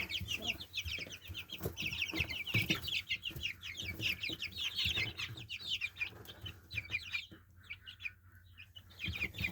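A flock of about two dozen young chickens, two of them roosters, in a pen, keeps up a dense, continuous chorus of high chirps and soft clucks, close and fairly loud, with overlapping calls throughout and no talking.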